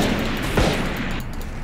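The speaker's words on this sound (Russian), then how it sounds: "пулемет. То, что я люблю." Machine gun fire in the Valorant shooter game, a dense continuous burst of rapid shots that stays loud and steady throughout, with no talking over it.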